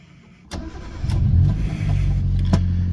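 An older car's engine cranks and fires up after a crankshaft position sensor replacement, catching at about half a second and settling into a steady, close idle with a couple of brief clicks.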